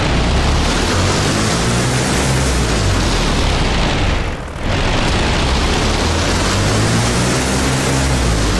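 Piston engine of a 2,100-horsepower warbird fighter at full throttle in the DCS flight simulator, a dense, steady, loud roar with deep rumbling harmonics and a brief momentary dip near the middle.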